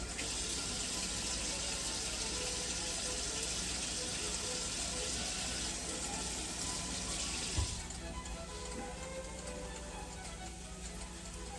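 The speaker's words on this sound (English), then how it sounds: "Let me wash my hands here." Tap water runs steadily into a kitchen sink as hands are washed, a close, continuous hiss and splatter that changes tone partway through and then carries on more softly.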